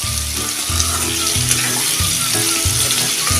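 Red pumpkin pieces stir-fried in oil hiss with a steady, close sizzle, broken by repeated scraping strokes of a spatula against the pan, with no voices.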